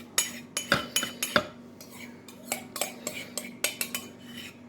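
A utensil repeatedly clinks against a bowl as butter is stirred into pumpkin chocolate chip bread batter, with sharp, irregular, fairly loud strokes close by.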